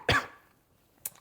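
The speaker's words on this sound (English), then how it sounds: "me trying to clear my throat like right now" A single harsh, close throat clearing bursts out at the start and trails off, followed a moment later by a brief sharp breathy sound.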